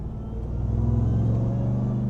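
A RAM TRX pickup engine runs with a steady low rumble and a sustained supercharger whine layered on top, holding a constant pitch as the revs stay up.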